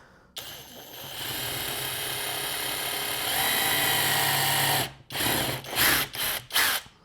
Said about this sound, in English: take my 3/32 drill bit, kind of line it up with where I want it